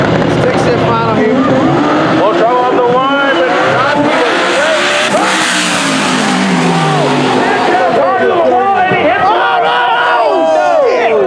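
Stick shift drag race cars at a Granite Racing event roar loudly and close with revving, gear changes and tire squeal, while a crowd cheers and voices talk over the engines throughout.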